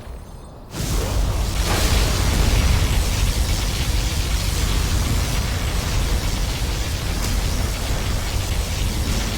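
A particle cannon blast in Command & Conquer Generals Zero Hour erupts suddenly after a brief quiet moment, then sustains a loud, dense roaring wash of noise that holds steady for several seconds.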